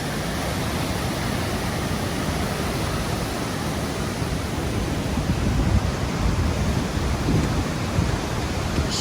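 Linville Falls gives off a continuous, dense roar of rushing water, loud and close, with no voices heard.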